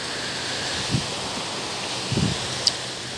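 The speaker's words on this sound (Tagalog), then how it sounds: "Tingnan mo ang lakas ng hangin." Strong wind blows steadily by the sea as a broad, constant rushing roar with brief buffets against the microphone.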